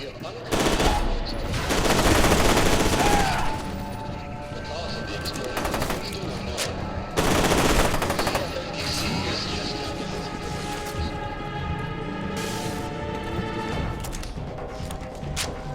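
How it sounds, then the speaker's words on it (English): Gunfire in F.E.A.R. 2: Project Origin, loud rapid automatic bursts near 1–3 and 7–8 seconds with scattered shots between, over steady game background. "Did I just see a bajillion bullets coming out of my gun?"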